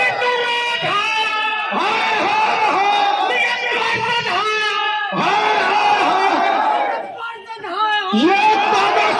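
A street protest crowd over waterlogging chants anti-BJP slogans in loud, rhythmic unison, voices rising and falling in repeated shouted bursts with a brief dip near the end.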